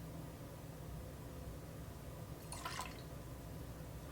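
Freshly squeezed lime juice poured into a cocktail jigger gives a brief, soft liquid splash lasting about half a second, set against quiet room hiss.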